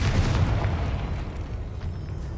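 Confringo fire spell blasting in the video game Hogwarts Legacy: a loud, rumbling explosion that bursts at the start and rolls on with a deep, sustained boom, with no voices.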